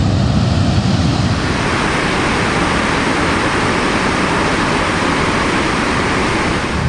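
Victoria Falls roaring on the Zimbabwe side, a massive waterfall heard as a loud, constant broadband rush of crashing water with no pauses and no voices.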